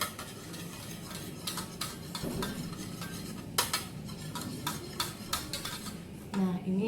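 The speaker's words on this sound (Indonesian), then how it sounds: "Ini kita aduk lagi." A whisk or spoon stirs chocolate chiffon cake batter in a bowl, giving steady scraping and clinking strokes against the sides at close range, with a few sharper taps standing out along the way.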